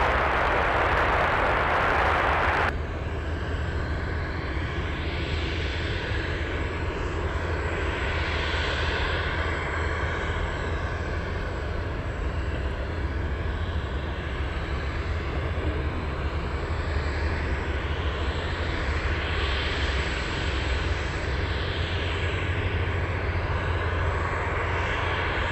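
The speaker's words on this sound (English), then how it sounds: "We have a Hercules taking off very soon." Lockheed C-130 Hercules turboprop taking off at Anchorage airport, a loud sustained propeller roar held at a distance, steady throughout with slow swelling pulses.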